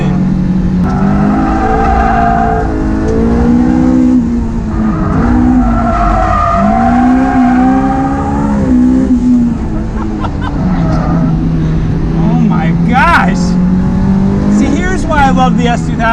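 A modified Honda S2000 with a naturally aspirated four-cylinder engine, lapping a race track, revs hard and shifts while its tires squeal in long skids, loud and close, with someone talking over much of it.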